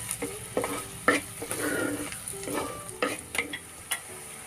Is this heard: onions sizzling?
yes